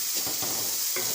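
Chopped medium onions hitting hot oil in a karahi, giving a steady, close, loud sizzle with a few stirring scrapes, no voices.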